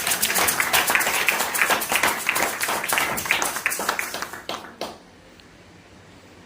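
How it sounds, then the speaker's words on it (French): A church congregation applauds with dense, lively clapping for several seconds, then the clapping fades out abruptly, leaving a quiet room. "On acclame pour le Seigneur."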